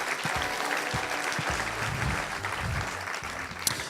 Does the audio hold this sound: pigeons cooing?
no